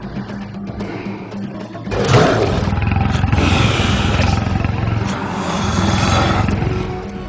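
A tiger roars loudly in a forest, a deep sustained growl that swells and rumbles continuously with no talking over it.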